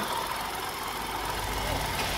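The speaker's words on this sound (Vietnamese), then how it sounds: "Máy số thì rất là êm luôn. Đấy, máy nổ êm ngon." The 1.0-litre three-cylinder engine of a 2016 Hyundai i10 with manual transmission idles steadily nearby, a low, even hum with faint talk under it.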